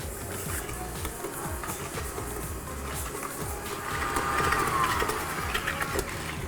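An electric mixer beats butter with light soft brown sugar in a bowl, a close, rhythmic whirring churn with repeated mechanical pulses that grows slightly louder toward the end.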